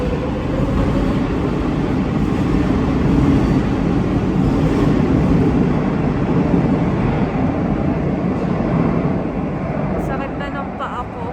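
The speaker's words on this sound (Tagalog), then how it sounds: "Dumaan yung tren kaya maingay." A metro train passes a platform in Madrid with a loud, continuous rumble and roar that holds steady for several seconds, then eases slightly at the end.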